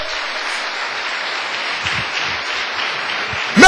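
A church congregation claps steadily in a broad, even wash of applause throughout, with a louder burst right at the end.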